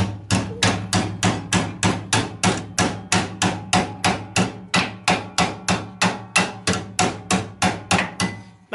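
A hammer strikes a metal car body panel clamped in a vise, about two dozen loud, evenly spaced ringing blows in a steady rhythm, with no talk.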